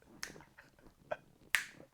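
A few sharp finger snaps ring out close and clear in an otherwise quiet room, spaced irregularly, with the last one the loudest.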